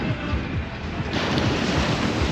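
Ocean waves wash onto a beach in Portugal, a rolling surf noise mixed with wind buffeting the microphone, loud and close, with no voices.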